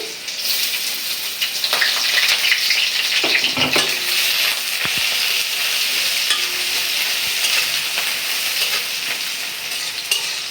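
Chopped onion and garlic sizzle in a pan as they brown for a mixed greens dish, with steady close frying and frequent stirring scrapes and clinks throughout.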